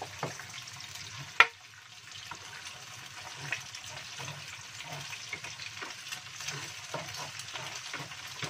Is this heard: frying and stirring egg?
yes